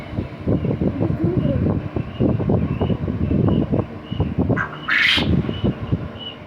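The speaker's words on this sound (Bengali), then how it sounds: "উপরটায় কোয়েল পাখি বড়া, আর নিচে সে মুরগি।" Dense chorus of squawking and clucking chickens and quails close by, rapid overlapping calls, with a brief sharp higher screech near the end.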